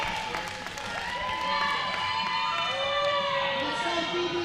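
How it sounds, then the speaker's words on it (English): Dense crowd roar with shouts and rising cheers swelling in a large arena at a powerlifting nationals meet, voices layered into a loud, sustained wash. "The crowd's getting loud."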